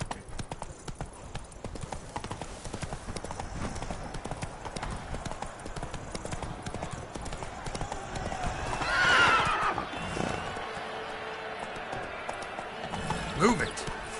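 Hoofbeats of the horse Roach in The Witcher 3, a steady clip-clop of galloping broken by a loud neigh midway, with someone talking over the sounds.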